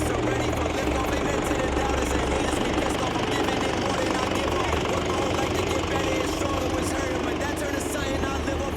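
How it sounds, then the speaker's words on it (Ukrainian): An old tractor and potato combine harvester rumble and clatter steadily in a field in Switzerland, a continuous mechanical engine noise with a faint voice underneath. "Як бачите, трактор вже із комбайном працюють в полі."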